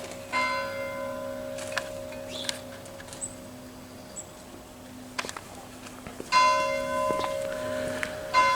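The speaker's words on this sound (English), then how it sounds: "Now the bell that's now ringing just after 8 o'clock is the Angelus bell." A church's Angelus bell rings out just after 8 o'clock in a few separate strikes, each one a rich, sustained tone that hangs in the air, with quiet ambient background between them.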